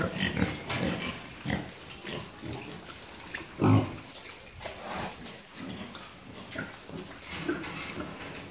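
Pigs grunt in the pens of a wild boar farm in Khanh Hoa, giving close, irregular snorts and grunts over steady farmyard background noise, with one louder burst midway.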